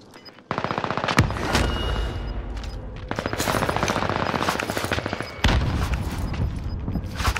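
Gunfire in a battle royale video game: rapid automatic bursts and single cracking shots fire in quick volleys, loud and close, with short gaps between strings of shots.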